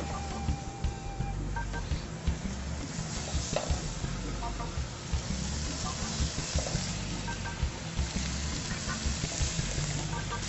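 High-fat meat searing in a hot dry restaurant pan gives a steady close sizzle with crackling pops and occasional stirring or scraping sounds throughout.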